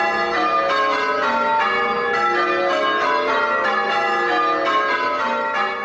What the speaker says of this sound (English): church bells have called the faithful to worship